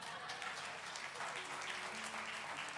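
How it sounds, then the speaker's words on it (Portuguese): Audience applause in a church service, a soft, distant wash of clapping hands that stays fairly even throughout, with a low background hum beneath it. "Glória a Deus pelas palmas, para Jesus"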